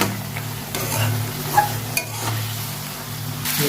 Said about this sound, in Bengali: সমস্ত মশলা দিয়ে নেড়ে কষে নেবো